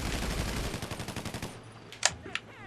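Automatic gunfire in Grand Theft Auto V, a rapid rattling burst for about a second and a half, then two sharp separate shots, fairly quiet in the game mix.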